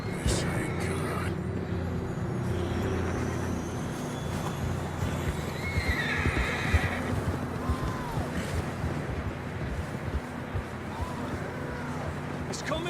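Horses in Red Dead Redemption 2 whinny and clop their hooves amid a steady wash of outdoor ambience, with the sounds staying moderately loud throughout.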